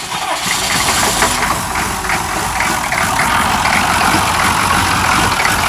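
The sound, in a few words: Chevrolet C2500 diesel truck engine cold cranking and starting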